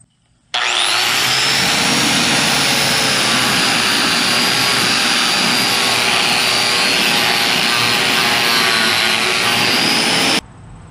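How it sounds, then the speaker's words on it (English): An angle grinder grinds on a trailer wheel during a Boler camper trailer renovation, a loud, steady high-pitched whine starting abruptly and holding for about ten seconds before cutting off. "Now I can grind this off and paint underneath"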